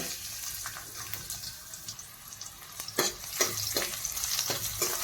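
Ginger, garlic and green chilli sauté in hot oil in a kadai, a soft close sizzle broken by several sharp stirring scrapes of a spoon against the metal pan toward the end.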